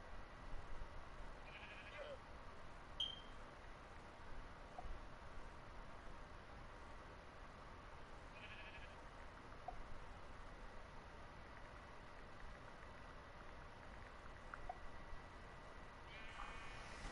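A video game sheep bleats faintly a few times at irregular intervals, quiet against a steady hiss of background noise.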